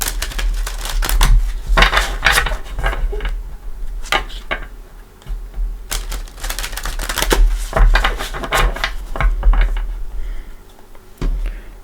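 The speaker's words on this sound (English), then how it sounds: "we're going to go ahead and give it a couple shuffles." Tarot cards being shuffled by hand, giving a series of crisp riffling and slapping bursts in irregular clusters, fairly close and moderately loud, with no voices.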